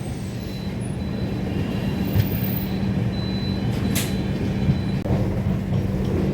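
Trivandrum–Amritsar SF Express train pulling into Kozhikode station, a steady low rumble of rolling wagons with faint hissing air brakes, continuous and fairly loud throughout, no voices.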